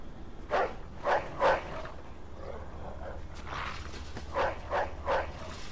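Dog barking in a slaughterhouse scene in the video game Mafia 2: two groups of three sharp barks, moderately close, with a low, muffled stretch between them.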